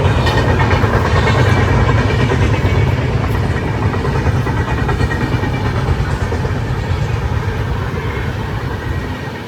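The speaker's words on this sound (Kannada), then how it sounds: "ಸೊ ಇಲ್ಲಿ ಟ್ರೈನ್ ಕೂಡ ಹೋಗ್ತಿದೆ" A loud train passes close by on a railway line near Ankola, Karnataka, its rumbling roar and rattle holding steady before slowly easing off toward the end; no voices.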